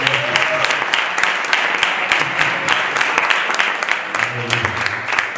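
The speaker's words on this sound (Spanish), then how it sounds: "Denle un aplauso al Señor" A church congregation bursts into applause during a sermon, a dense, lively roll of many hands clapping close and loud, with a voice calling out over the clapping near the end.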